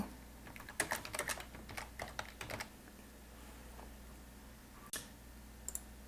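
Quick bursts of keystrokes on a computer keyboard as a signature is typed, close and fairly quiet, with a pause and then a few isolated clicks near the end.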